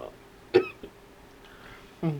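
One sharp cough stands out, with a couple of smaller throat sounds around it, close and fairly quiet.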